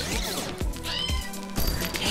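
A kitten in a video game meows repeatedly, several short rising and falling cries in close succession, clear and close with no talk over them.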